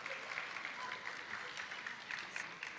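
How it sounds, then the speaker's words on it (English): Audience clapping at a Lorain High senior awards ceremony, a full, continuous patter of many hands filling the room throughout, with faint crowd murmur underneath. "Sorry, Miss Haney, they clapped."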